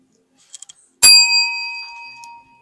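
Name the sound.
bell rung on a live shopping broadcast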